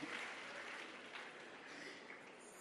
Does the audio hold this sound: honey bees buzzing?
no